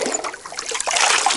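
Water scooped from a lake at a taiga hut in summer heat, a short close splash and trickle of liquid with a brief pour-like wash of sound.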